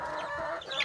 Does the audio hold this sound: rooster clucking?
yes